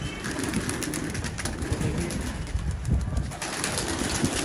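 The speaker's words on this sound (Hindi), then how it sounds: "देख सकते हैं व्यूअर्स ये हमारे कबूतर निकल आए हैं" Shahjahanpuri pigeons flying out of their loft, with soft throaty cooing and fluttering wings amid a busy outdoor wash of noise, fairly close and continuous.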